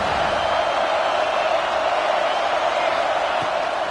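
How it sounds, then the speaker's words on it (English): A football stadium crowd roars and cheers for the defense on a big third down in the red zone, a dense, loud, sustained wash of noise with no breaks. "this crowd is getting behind this defense"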